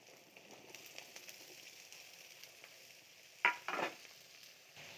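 Vegetables fry quietly in oil with a soft, even sizzle, and two sharper clattering bursts rise briefly just past the midpoint.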